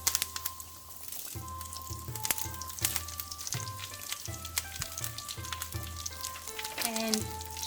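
Whole chili and curry leaves fry in hot oil for a Kerala-style salmon curry, giving a quiet, spattering sizzle broken by sharp pops and crackles, with some knocks and faint tonal sounds around it.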